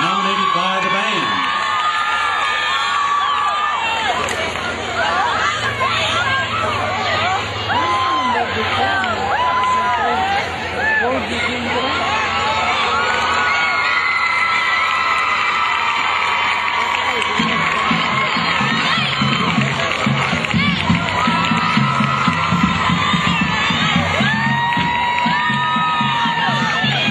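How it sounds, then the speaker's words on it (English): A large crowd at a 2009 Kings Mountain homecoming court presentation cheers, whoops and applauds continuously, with children shouting and loud hubbub sustained throughout. "Let's give a big round of applause for your 2009 Homecoming Court."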